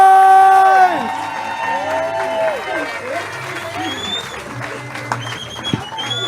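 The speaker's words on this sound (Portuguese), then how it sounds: "Muitos aplausos para receber meu amigo" A stand-up comedy audience applauds and cheers to welcome a comedian onto the stage: a dense burst of clapping and whoops that eases into scattered claps, with voices talking over it.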